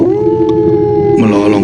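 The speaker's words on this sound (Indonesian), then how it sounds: "ku dengar suara anjing yang tiba-tiba melolong" A dog howls in one long, sustained, wavering cry that rises in pitch near the end, loud and fairly close, with no talking.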